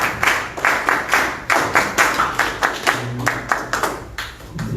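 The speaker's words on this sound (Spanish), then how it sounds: "Adelante, Elías, con tus palmas," Audience at an evening political event hands out a steady round of clapping for a union leader taking the podium, rhythmic and fairly close, with little talk over it.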